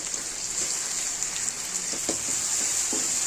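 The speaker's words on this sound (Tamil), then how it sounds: "இப்போ வெங்காயம் தக்காளி சேர்த்து நல்லா வதக்கியாச்சு" Onions and tomatoes sautéing in a pan for a lentil-dumpling curry, a constant bright sizzle with scattered soft pops and spatters, close and steady with no talking.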